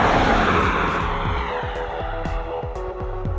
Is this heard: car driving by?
yes